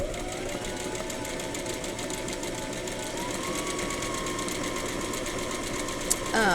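A sewing machine runs steadily, stitching a heart-shaped fabric patch backed with interfacing, a continuous close mechanical whir with fast rhythmic needle ticking that stays even throughout.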